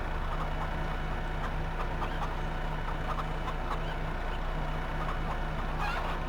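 Chickens cluck faintly in the Farming Simulator 15 video game, soft scattered clucks over a steady low hum of engine-like background noise.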